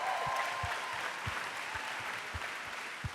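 Sustained applause from a congregation during a morning chapel service at Azusa Pacific, steady and fairly loud throughout, with a few isolated low thumps standing out beneath the dense clapping.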